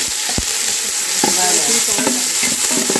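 Onion, tomato and curry leaves sauté in hot oil for a Malvani crab curry, giving a loud, continuous sizzle with scattered crackles and utensil scrapes throughout.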